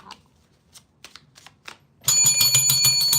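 A bright, shimmering bell effect bursts in loud after a couple of seconds of faint scattered clicks, then rings on steadily with dense overlapping metallic tones until the end.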